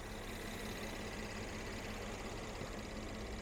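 A 2015 Mercedes-Benz E350 4Matic Sport engine, 41,726 miles, idles under an open hood as a faint, steady, smooth hum with no voices over it.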